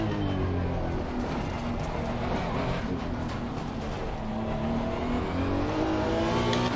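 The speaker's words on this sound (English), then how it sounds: "It's really like an old school turbocharged engine with a big turbo lag" Turbocharged engine of a 2018 Honda NSX racing at Spa in Assetto Corsa Competizione, a loud continuous drone that rises and falls in pitch as the car accelerates and shifts.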